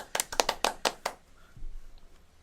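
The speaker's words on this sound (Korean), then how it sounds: "박수." A short burst of handclaps in a talk-show studio: roughly six sharp claps over about a second, then quiet room tone.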